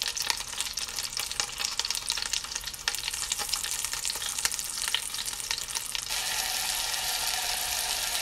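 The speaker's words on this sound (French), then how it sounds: "je fais dorer la viande" Meat browns in a hot pan for couscous, a continuous crackling sizzle with scraping stirs and occasional clicks, close and steady from start to finish.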